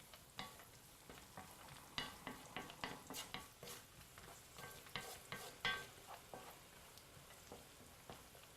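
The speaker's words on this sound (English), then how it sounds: "I'm going to stir this around to make sure everything gets coated in the butter." Green beans stirred in melted butter in a pan, with soft scraping and clinking strokes and a faint sizzle, quiet and close, with no talking.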